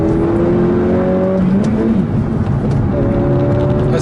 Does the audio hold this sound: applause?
no